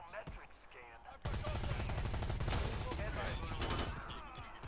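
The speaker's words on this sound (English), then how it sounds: "That was me shooting something." Guns in the game Predator Hunting Grounds let loose a loud, sustained burst of rapid automatic fire lasting several seconds, with a brief voice and clatter just before it starts.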